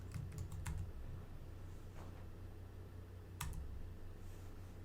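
Computer keyboard typing while writing web page code: a few faint, quick key clicks over a low steady hum.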